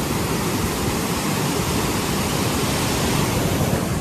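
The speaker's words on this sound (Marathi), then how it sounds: "तर बघू शकता अशा प्रकारे किती पाणी चालू आहे." Released water rushes and pours like a waterfall, a loud, dense, unbroken roar that stays constant throughout with no voices.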